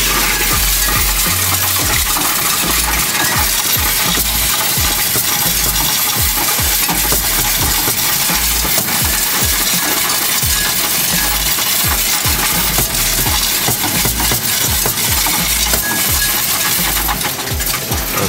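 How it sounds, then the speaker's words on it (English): Coins pouring out of a Coinstar coin counting machine, a dense continuous metallic jingling and clattering with a constant mechanical rumble underneath, loud and close throughout. "Lots of coins, lots of pennies."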